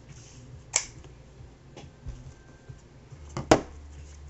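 Paper craft tags being trimmed, two or three sharp, isolated snips close by with quiet pauses between them.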